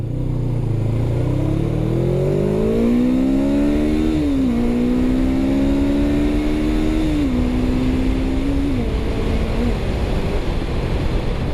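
A GS500 motorcycle accelerates at wide open throttle, its loud, close engine note climbing steadily and then dropping briefly at each of several upshifts before rising again, with wind roar throughout.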